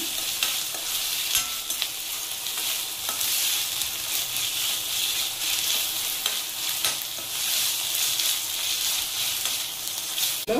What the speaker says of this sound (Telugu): అల్లం పేస్ట్ని పచ్చివాసన పోయే వరకు వేయించుకుందాము